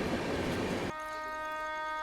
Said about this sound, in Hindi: जो ट्रेनें पास हो रही हैं वो मैं आपको दिखाता हूँ